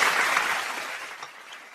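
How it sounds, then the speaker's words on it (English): Applause from a tech forum audience in Nigeria after a speaker finishes, a brief dense burst of clapping that fades over under two seconds. "Can we have an round of applause for our last speaker?"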